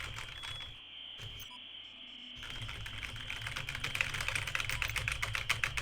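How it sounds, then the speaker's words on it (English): Computer keyboard typing, with rapid irregular key clicks that start in short bursts, pause briefly, then continue as a steady close-up clatter over a constant high-pitched tone. "So right now, you guys can hear this, I'm just gonna pretend I'm typing."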